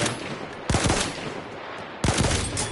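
Two loud, close gunshots in a first-person shooter game, spaced more than a second apart, each a sharp crack followed by a booming tail, no voices.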